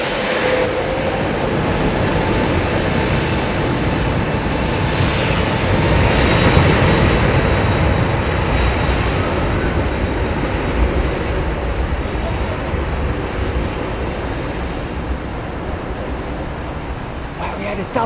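Jet airliner engines spool up for departure at Heathrow Airport, a loud, steady broadband roar that swells slightly mid-way and holds for the whole stretch, close and continuous.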